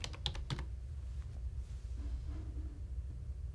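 A computer keyboard typing a page name, a quick burst of a few close key clicks at the start, followed by quiet room tone.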